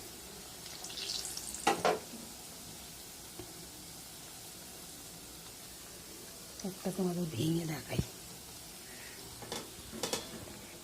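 Palm fruit pitha cakes deep-frying in hot oil give a steady low sizzle and hiss throughout, with a person talking over it in short bursts.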